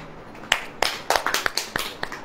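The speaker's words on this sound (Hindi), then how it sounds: "ताली बजाएं" A church congregation claps along during a sermon with quick, uneven claps in a loose rhythm, fairly close and clear, and no voices over them.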